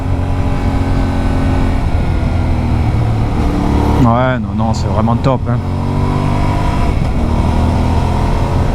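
Yamaha Ténéré 700 World Raid motorcycle engine pulling hard under acceleration while riding on road, a steady close engine drone with wind rush, its pitch shifting through gear changes as a rider talks over it.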